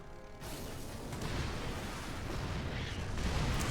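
Siege tanks fire in the StarCraft-based game Starbow, producing a low, rumbling barrage of overlapping booms and blasts that builds and stays dense with no talk over it.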